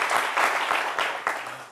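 Applause from an audience, a dense wash of clapping with swelling bursts that stays loud and steady for under two seconds, with no voices.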